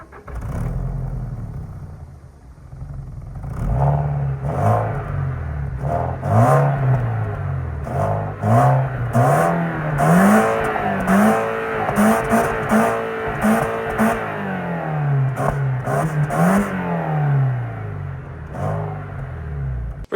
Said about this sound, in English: Very average 4-cylinder sound from the 2-litre engine here.